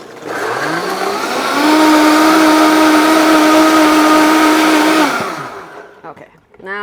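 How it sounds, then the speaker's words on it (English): A blender purees hard-boiled eggs into a carnivore-style mayo, its motor whirring loudly and steadily for about four seconds before spinning down and stopping. "And we'll puree that up."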